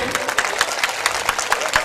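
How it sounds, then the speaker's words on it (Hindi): At an all-India mushaira and kavi sammelan poetry gathering in Champaran, Bihar, the crowd claps in a brief, lively burst. Individual sharp claps stand out close by against a busy room. "एक बार जोरदार तालियां चाहूंगी इस पूरे प्रांगण से"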